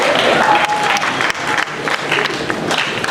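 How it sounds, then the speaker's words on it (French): A large audience at a political gathering of the UDPS party applauds steadily, a dense and loud wash of clapping with some crowd noise and voices mixed in. "Sous vos acclamations,"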